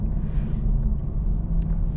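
A 2020 Toyota A90 Supra with a 3-litre turbo engine drones steadily while driving, a continuous low rumble of engine and road noise heard from inside the car without talk.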